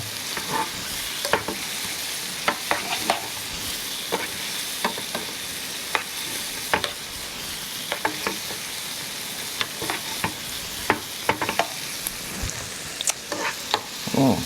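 Shrimp and carrot noodles stir-fry in a hot pan with a steady, close sizzle, broken by scattered clicks and scrapes as the ingredients are tossed, with no talking.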